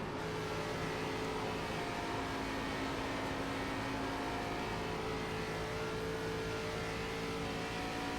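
ARCA race cars in iRacing roar in a steady, loud engine drone with sustained revving tones and no letup, sounding as though from inside a car running close in a pack.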